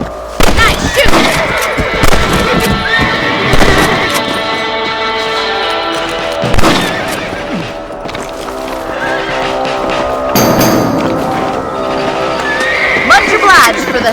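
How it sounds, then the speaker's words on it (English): Horses in the Red Dead Redemption video game neigh loudly several times over a dense backdrop of hooves and game ambience, close and prominent throughout. "Let's get back on the horses and see what else is going on."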